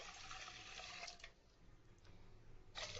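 Water being poured from a tumbler into a pressure cooker for ven pongal, a faint splashing gush broken by short pauses between pours.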